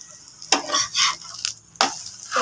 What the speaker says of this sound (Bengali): গোলার রুটিটা ভাজা বসিয়ে দিয়েছি